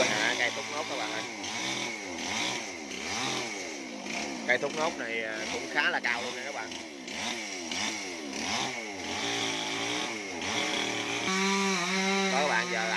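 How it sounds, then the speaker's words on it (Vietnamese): A chainsaw roars and revs in rising and falling bursts while a tall palmyra palm is felled near a chicken coop, with someone talking over the engine throughout. "Tối nay mình quay anh thợ cưa hạ cây thốt nốt các bạn ơi."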